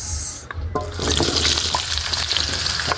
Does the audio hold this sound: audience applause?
no